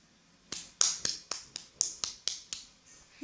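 Sharp, evenly spaced claps from the Brawl Stars video game, about ten crisp bright hits in a steady rhythm, close and clean against a quiet background.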